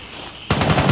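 Gunfire in the tactical shooter Gray Zone Warfare: after half a second of quiet, a loud close burst of rapid automatic shots rattles off in a quick repeating rhythm.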